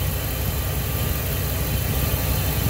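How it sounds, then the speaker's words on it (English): A Ford Triton 2-valve engine idles with an erratic misfire, giving a steady, loud low rumble with uneven pulsing throughout, close by and without speech. "If you're hearing the engine in the background noise, I apologize for that."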